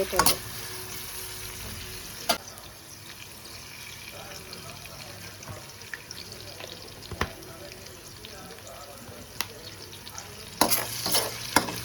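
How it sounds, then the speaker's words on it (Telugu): Onions fry in a pan with a pinch of salt for mandi rice, giving a steady, close sizzle broken by occasional clinks and scrapes of stirring. "కొంచెం సాల్ట్ వేస్తాను ఇందులో ఆనియన్స్ తొందరగా ఫ్రై"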